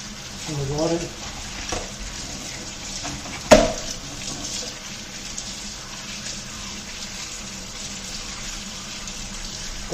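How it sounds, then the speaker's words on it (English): A BMX bike chain, removed and coated in Simple Green degreaser, is rinsed under running tap water, giving a steady wash of splashing water with a brief louder knock partway through. "I'm just going to rinse it off in the water."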